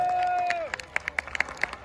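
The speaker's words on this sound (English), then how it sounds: "Give them a round of applause." A festival crowd applauding a sponsor at a Toronto Celtic festival, light clapping beginning as a held tone cuts off, some sharp individual claps standing out.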